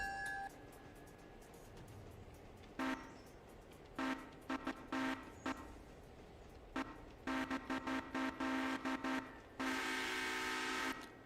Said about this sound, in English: You've got to honk. It's the law.